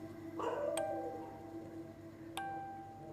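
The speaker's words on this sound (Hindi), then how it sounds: "पिल्ला कौन पीट रहा है भाई बाहर?" A puppy yelps outside, a single faint, distant whining yelp near the start, followed by two sharp ringing tones.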